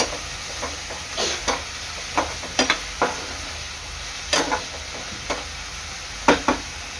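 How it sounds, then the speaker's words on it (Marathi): Mixed vegetables including capsicum sautéing in oil for soybean fried rice, a constant sizzle broken by repeated spatula scrapes and knocks against the pan at an uneven pace. "सर्व भाज्या 1-2 मिनिटं चांगलं परतून घ्यायचं तेलावर।"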